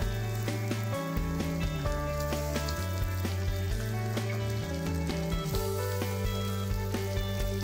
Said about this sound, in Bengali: পেঁয়াজের সঙ্গে আলুটা ভালোভাবে নেড়েচেড়ে ভেজে নিতে হবে